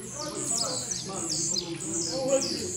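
A caged tiziu (blue-black grassquit) gives repeated high, sweeping chirps close by, with someone talking over the calls.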